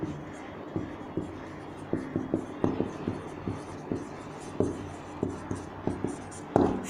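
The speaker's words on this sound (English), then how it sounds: "So let us write down." Pen writing on paper while working through a geometry problem, heard as a run of short, close scratching strokes in an uneven rhythm, with quiet speech-like murmurs in between.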